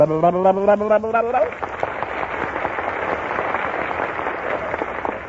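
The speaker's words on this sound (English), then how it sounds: "I can make this entire audience applaud with their hands just by making a sound" A 1938 radio studio audience bursts into applause right after a short whistled or sung tone, sustained clapping that fades slightly over several seconds.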